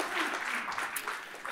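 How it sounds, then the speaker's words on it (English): An audience claps for a photography seminar prize winner, a short, moderately loud patter of scattered hands with no cheering. "everyone reluctantly claps that you didn't win"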